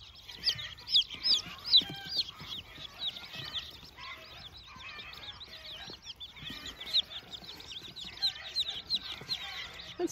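Young chicks peep continuously in a busy chorus of high, repeated cheeps, fairly close, with no talking.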